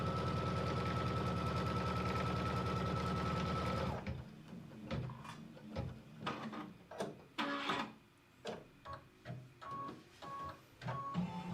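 A sewing machine runs a quarter-inch seam on a quilt, a loud steady stitching whir for about four seconds that stops abruptly, followed by scattered clicks, fabric handling and soft knocks.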